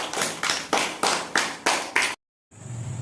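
A group of children clapping in unison, six strong rhythmic bursts of applause in quick succession, close and loud, followed by a brief silence and low background noise.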